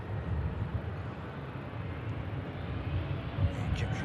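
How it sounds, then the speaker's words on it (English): An Air Transat Airbus A321 bound for Toronto departs, giving off a steady, fairly loud broadband jet roar with a low rumble that holds evenly throughout. "As one A321 arrives, departs back to Toronto for this Air Transat"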